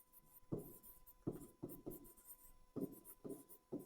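Chalk or marker strokes on a board during an accounting class, coming in short scratchy bursts of about half a second each, with pauses between, fairly close and clear, with no voice over them.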